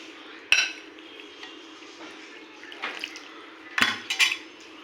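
Milk being mixed into batter for patishapta pitha gives soft, faint wet stirring and a few sharp clinks of a utensil against the bowl, spread out and near, with no voices.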